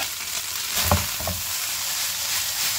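Minced meat with grated carrot and cabbage sizzles steadily in a pan over high flame, with a couple of close stirring scrapes near the middle and no voices.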